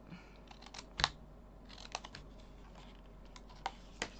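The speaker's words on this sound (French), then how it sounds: "On vient marquer nos plis." Fold lines are scored into paper for scrapbooking, producing quiet, scattered scratchy strokes and taps, with one sharper click, spaced irregularly over a few seconds.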